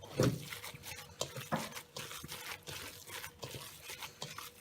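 Veal paupiette stuffing being mixed by hand, soft irregular squelching and patting pulses of moist ground meat, close and fairly quiet, with no talking.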